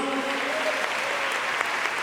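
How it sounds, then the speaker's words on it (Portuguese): A church congregation claps in praise at a pastor's book launch, an even wash of applause that sounds somewhat distant and soft. "Palmas que louve ao Senhor Jesus."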